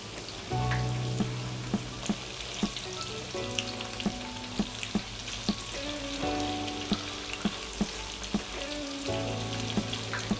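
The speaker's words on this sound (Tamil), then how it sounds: "ஸ்டவ் மீடியமில் வச்சுட்டு அப்படியே பொரிச்சு எடுத்துக்கோங்க" Paneer cubes frying in oil in a pan on a stove at medium heat, giving a steady, dense sizzle with crackling pops and occasional clinks of a utensil throughout, heard close and without speech.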